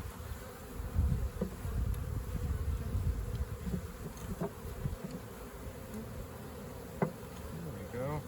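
Honeybees buzz in a dense, continuous swarm close by as a beekeeper transfers a swarm trap, the drone steady and loud with small fluctuations and occasional louder passes near the ear.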